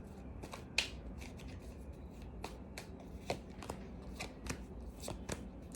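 Tarot cards shuffled by hand, a series of quick, crisp riffles and slaps in an irregular rhythm, close and quiet, with no speech.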